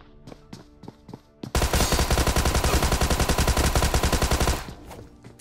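Battle royale video game gunfight: a few separate shots, then a long loud burst of rapid automatic fire that stops abruptly, with game ambience after and no talking.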